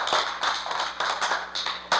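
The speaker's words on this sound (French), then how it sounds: "Est-ce qu'on l'applaudit?" A small group claps in a classroom-style gathering, a brief ragged burst of hand claps, close and fairly loud, with no voices over it.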